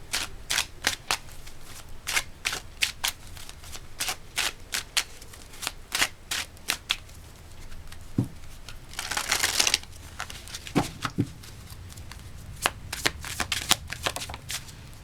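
Tarot cards being shuffled by hand, a series of quick crisp riffles and slaps close up that come in bursts with short pauses, alone without talk.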